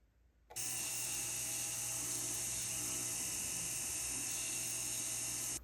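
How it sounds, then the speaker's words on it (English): A jeweler sets a stone into a ring's prong head with a rotary tool that starts abruptly and holds a steady, close, high-pitched whine for about five seconds before cutting off. Nobody speaks. "The sizing's complete, so we're going to set the stone in now."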